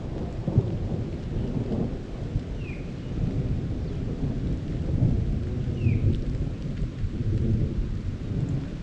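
Steady rain pours down with a low, continuous rumble of thunder rolling underneath, dense and enveloping, with no voices.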